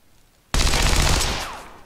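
Rapid automatic pistol fire bursts in abruptly in XCOM 2, a loud dense volley of shots that sustains and slowly tapers off, with no talking.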